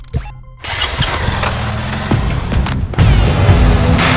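A TVS Raider motorcycle engine starts up in Jaipur, catching after a brief crank and settling into a steady, close, loud idle that swells slightly toward the end, with no voices over it.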